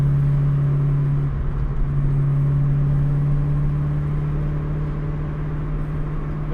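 A supercharged Foxbody Saleen Mustang cruises along, its engine droning in a steady low hum with a strong tonal note and road rumble, close and constant throughout.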